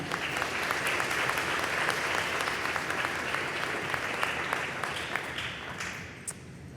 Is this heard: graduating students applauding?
yes